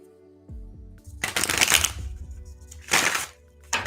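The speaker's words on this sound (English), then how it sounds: "let me get a nice shuffle going." Tarot cards are riffled and shuffled up close in a few crisp fluttering bursts, each a rapid papery ripple with short pauses between and a soft tap at the start.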